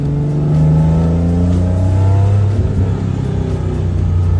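A classic Nissan Skyline Hakosuka's engine revs outdoors with a deep, loud rumble. It rises and holds steadily for several seconds, heard from outside the car.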